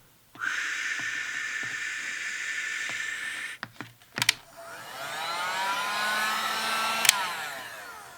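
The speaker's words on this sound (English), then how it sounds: "This is a heat gun. It's a little more powerful than a blow dryer." Heat gun blasting air across watercolor paper: a loud steady roaring hiss starts abruptly, cuts off after a few seconds with some clicks and handling knocks, then resumes with a rising whine, close up.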